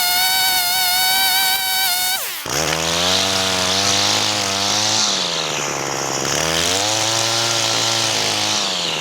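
Gas-powered lawn edger cutting along a lawn edge during landscaping work, a loud, close, steady buzzing engine whine that dips briefly, then runs on with shifting pitch as the blade bites into turf.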